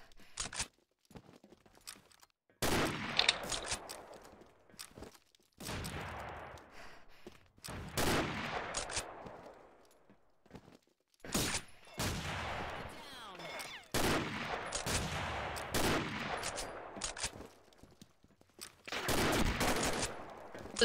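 Rapid bursts of gunfire ring out in a Combat Arms elimination match on the Oil Rig map, loud repeated volleys and single shots arriving in clusters with short gaps, with game callouts and voices between them.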